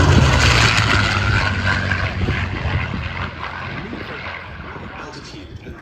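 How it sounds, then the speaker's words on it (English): A P-51D Mustang propeller fighter, Merlin-engined, flies past at an airshow, a loud, rough engine drone that gradually fades as it moves away. "Here is the P-51D."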